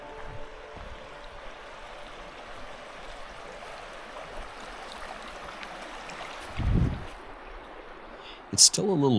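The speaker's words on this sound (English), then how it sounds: "This is a pleasant spot to doze off to the sound of the creek." Beside a campsite, a creek flows in a soft, steady rush of water that holds the whole time. A few brief knocks and rustles come near the end.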